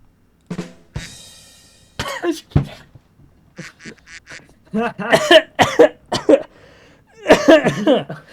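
Several sharp coughs in bursts, with a person talking between them; near and fairly loud.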